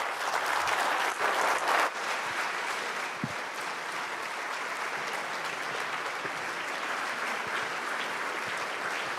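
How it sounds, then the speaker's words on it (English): Audience applause at a Nigerian public forum on national independence and governance, sustained even clapping from a crowd that carries on steadily throughout. "A well-deserving round of applause, please."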